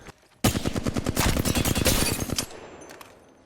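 A long automatic burst of rapid gunfire rattles for about two seconds in the Apex Legends firing range, a dense stream of loud shots that starts abruptly and ends with a short fading tail.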